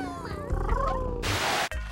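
A cartoon cat purrs in a Littlest Pet Shop scene, a close, steady rumbling buzz mixed with musical tones and a brief bright swoosh near the end.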